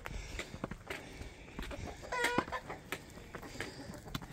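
Hens and a rooster cluck intermittently at a moderate distance beside a mountain road climbing toward a pass above Lake Ohrid, with a brief louder burst of fowl calls midway against a steady outdoor background.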